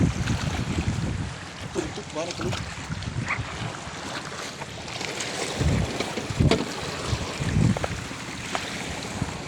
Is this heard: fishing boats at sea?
yes